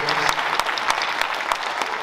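Brief round of applause from a school audience in a classroom setting, a short burst of clapping with a few sharper claps standing out and faint murmuring beneath.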